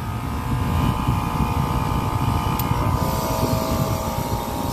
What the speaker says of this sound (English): It's about this compressor.